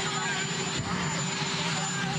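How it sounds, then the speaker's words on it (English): A helicopter roars steadily in the background outdoors, a constant broadband engine and rotor wash with a faint voice over it. "you have a helicopter roaring in the background"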